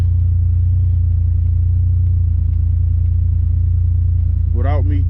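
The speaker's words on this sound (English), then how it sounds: "The car is running." A running car engine idles just after a cold start, heard from inside the cabin with all windows rolled up as a steady, loud low hum; a brief voice sound appears near the end.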